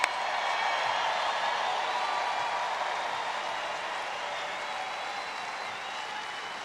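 Applause for law enforcement officers from a crowd at a political rally in Milwaukee, Wisconsin, a sustained wash of many hands clapping that starts at full strength and holds steady with no speech.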